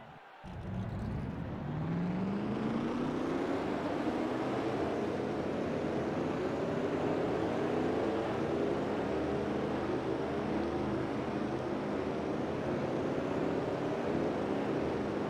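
A field of stock car engines fires up in a racing video game set at Toronto, a sudden start followed by a dense, steady roar whose pitch rises gradually as the engines rev.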